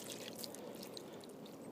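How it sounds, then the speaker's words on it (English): Water poured over the door seal of a 2015 Chevrolet Colorado pickup gives a steady, faint splashing trickle throughout, with no talk over it. "when you pour water on it"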